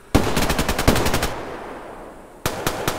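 Gunfire in the video game Survarium: a rapid burst of loud, close shots rattles for about a second, fades into a lingering tail, then a second short burst of several sharp shots follows.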